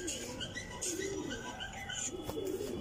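Pigeons coo softly through a short stretch while domestic pigeons are flown outdoors, with low warbling calls rising and falling over steady background noise.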